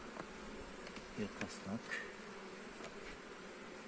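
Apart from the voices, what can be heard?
bees at a hive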